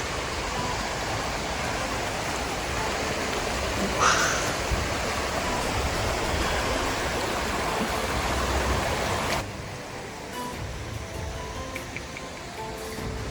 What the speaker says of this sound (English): Let's head down to the creek.